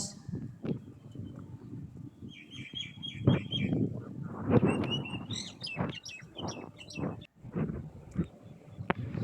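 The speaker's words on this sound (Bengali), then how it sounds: "এখানে একটা নিম গাছে বাবুই পাখি অনেকগুলা" Many weaver birds chirp and twitter together in a neem tree, bright repeated calls over a steady low outdoor rumble.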